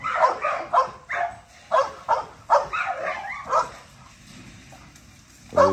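Blue XL Pitbull puppies yip and bark in a rapid run of short, high calls, then go quiet before one more bark bursts out close up at the end.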